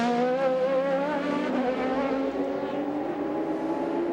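ALMS sports race cars at Long Beach scream past at high revs, a strong whining engine note that fades slightly as they pull away, with no voices.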